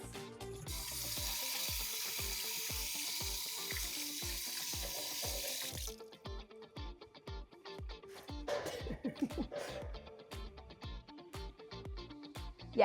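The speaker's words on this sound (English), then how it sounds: "I'm going to wash my hands." Running water from a kitchen sink tap pours steadily as hands are washed, a soft broad hiss for several seconds that breaks off, followed by faint clatter and handling noises with a brief splash near the end.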